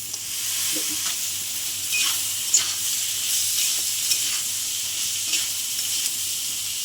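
Rice for pulao fries with cashews and raisins in a pan, a steady sizzle broken by regular scraping strokes as it is stirred, close and without talking.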